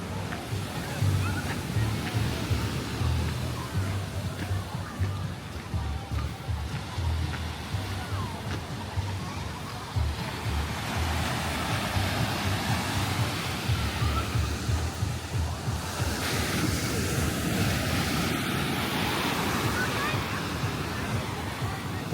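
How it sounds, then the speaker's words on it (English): Ocean surf rolling onto the beach at a Punta Cana resort, a constant loud wash of breaking waves and rushing water with wind buffeting, people talking faintly underneath. "here we are down at the beach"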